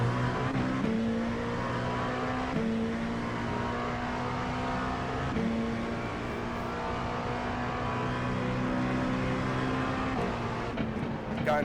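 An LMP2 prototype race car in the iRacing sim at Sebring, its engine droning steadily at high revs and climbing through the gears, loud and continuous with no talk over it.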